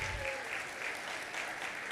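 Clapping from a church congregation, a steady, moderately close round of applause with a faint voice underneath.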